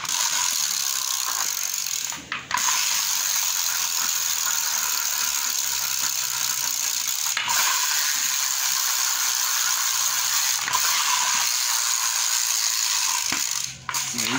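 The ratchet of a fishing reel turns with a rapid, continuous fine clicking buzz, close and steady, broken by a couple of brief pauses.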